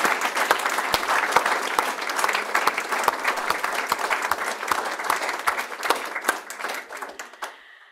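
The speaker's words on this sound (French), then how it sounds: "Une bonne main d'applaudissements à eux" Enthusiastic applause from an audience at an honour roll awards ceremony, steady dense clapping for award recipients that fades out near the end.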